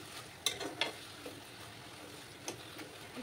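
A ladle stirs kachu shak (taro leaves) in a hot pan as the liquid cooks off, with a soft steady sizzle and a few sharp scraping clicks against the pan.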